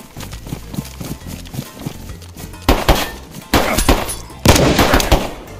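Gunfire in a GTA or Red Dead roleplay game, a rapid run of sharp cracking shots that grows louder in three bursts, with clattering hoofbeat-like knocks underneath at first.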